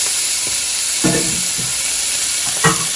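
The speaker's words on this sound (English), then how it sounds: "I'm going to put just a little bit of oil in the pan, and we are going to sear it" Chicken sears in a lightly oiled hot pan, a steady, loud sizzling hiss with a few soft clinks and scrapes of the pan or utensil.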